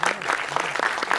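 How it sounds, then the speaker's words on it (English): An audience at a launch event for the film Phobia claps in a steady, dense round of applause that continues without a break through the short moment. "let us once again hear the loudest and the longest round of applause for Phobia"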